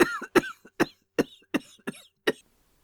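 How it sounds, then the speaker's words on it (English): A woman coughs hard in a dramatic reading, a run of about eight sharp, close, choking coughs in a halting rhythm that trails off into silence, with no talking. "Her cough choked her"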